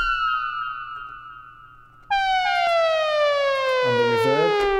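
A preset on the Arturia EMS Synthi V synth with a delay effect gives a descending tonal glide that fades, then restarts louder and sweeps down again, with a bouncing low echo near the end.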